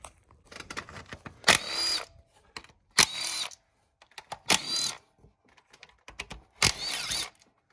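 Four short whirring bursts of a power tool backing out the ignition coil bolts on a Mazda 2, close and loud, separated by quiet gaps, with no talking.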